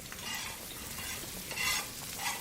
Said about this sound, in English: add the spinach to the frying pan